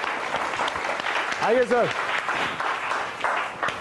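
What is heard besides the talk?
audience applauding to welcome a guest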